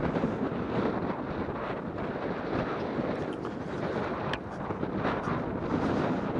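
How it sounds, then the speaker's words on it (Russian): Stormy wind blows hard across a sunny seaside beach, a steady loud roaring rush buffeting the microphone throughout with no voices. "Чувствуется шторм, ветер,"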